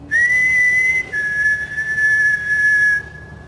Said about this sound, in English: There's the whistling. That's really loud.